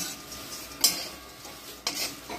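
Thin poha being stirred in a hot pan, a quiet scraping and rustling with two sharper scrapes of the spoon against the metal over a faint steady background.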